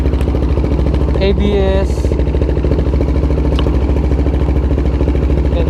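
A CFMoto 300SR motorcycle with an upgraded exhaust idles and revs with a steady, loud, throbbing engine note, while voices talk over it close by.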